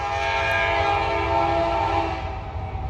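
A long, loud train horn blast sustains steadily as the Illinois Terminal heritage unit train passes in Ohio, fading slightly toward the end with low rumbling underneath.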